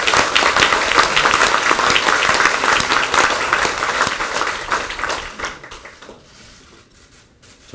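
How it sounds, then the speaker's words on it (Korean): Sustained audience applause at a political party's election campaign committee disbandment ceremony, loud and dense for several seconds before tapering off into near silence. "그 박수 부탁드립니다."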